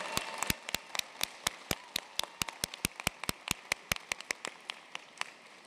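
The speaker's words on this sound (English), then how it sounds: "Please join us in a round of applause for these students." Sharp, evenly spaced claps from one nearby person ring out over a faint wash of crowd applause at a medical school commencement ceremony, holding a steady beat of about three claps per second.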